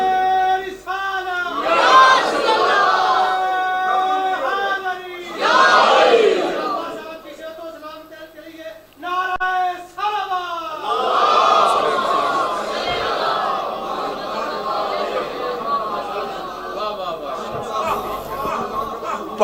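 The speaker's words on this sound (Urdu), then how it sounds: "جتنے بیٹھے ہوئے درود لگا رہے ہیں، درود پڑھ رہے ہیں، نعرے لگا رہے ہیں، تکبیر پڑھ رہے ہیں" A seated majlis crowd chanting religious slogans and durood in unison, loud and reverberant, with rising collective shouts separated by short pauses and a preacher's voice in between.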